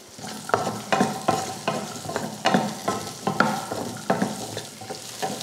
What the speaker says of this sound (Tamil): 15லேருந்து ஒரு 20 போல் சின்ன வெங்காயம் சேர்த்துக்கோங்க. ஒரு 5-6 பூண்டுப்பல், ஒரு சின்ன துண்டு இஞ்சி. இப்போ இதையும் வதக்கிடலாம்.